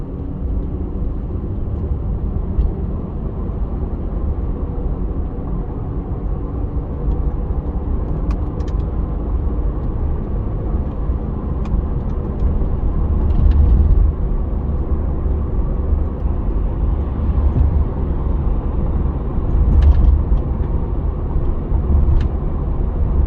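A 2006 Mazda MPV climbing a hill, heard from inside as a loud, steady engine drone with road rumble and constant cabin noise throughout, without talk.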